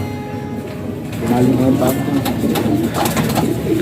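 Black velvet racing pigeons coo softly and repeatedly close by, with a low murmuring texture that thickens partway through, while a voice talks over the birds.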